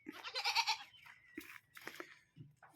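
Goats kept on a mountain farm in the provinces give a few short, quavering bleats, one louder call up front and fainter ones after, heard close with quiet gaps between.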